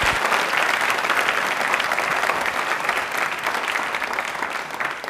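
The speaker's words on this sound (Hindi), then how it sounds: "तालियां भी एक बार जोरदार" Loud, steady applause from an audience at a Hindi fortnight quiz event, a dense wash of clapping that fills the whole stretch without letting up, with no speech over it.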